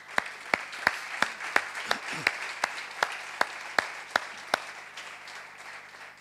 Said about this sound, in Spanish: Entonces le podemos dar un aplauso de bienvenida.